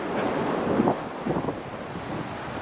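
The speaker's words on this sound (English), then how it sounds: "As you can probably hear on the video, it's pretty windy today." Strong winter wind in Loyalsock State Forest rushes and buffets the microphone continuously, a low steady roar with a few faint gusts and no talking.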